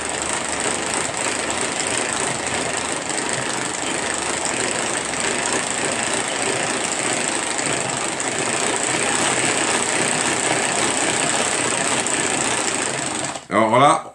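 An electric hand mixer fitted with whisks runs steadily at its lowest speed, a continuous motor whir blending a batter for most of the stretch before a brief clatter at the end, with a voice speaking over it.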